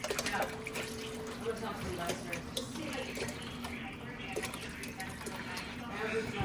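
Broth poured into a pot of chicken soup makes a continuous, fairly quiet splashing trickle, with a voice heard faintly around it.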